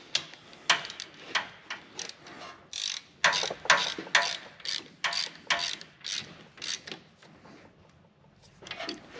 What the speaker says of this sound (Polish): wykręcamy sobie teraz już te śruby